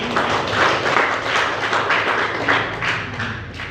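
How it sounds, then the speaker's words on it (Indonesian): A church congregation applauds during a sermon, a steady dense wash of many hands clapping that holds at an even, fairly loud level throughout with no voices on top. "Tepuk tangan buat Tuhan."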